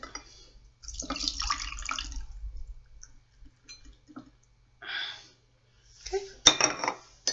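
Estonian black tea with fruit and nut pieces is poured into a teacup in several short splashing bursts separated by quiet pauses, near and fairly soft.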